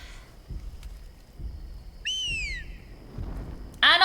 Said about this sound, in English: Oh, there's your whistles.